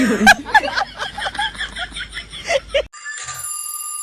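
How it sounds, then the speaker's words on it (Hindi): People laugh and chuckle for a few seconds, then they stop and a telephone starts ringing with a steady electronic tone. "अरे देखो तो ये दूध वाली का फोन आ रहा है"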